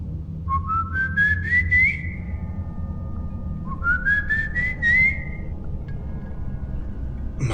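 A person whistles two rising, sliding phrases, each about a second and a half long, clear and nearby over a low background hum.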